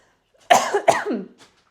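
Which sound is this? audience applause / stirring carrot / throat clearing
throat clearing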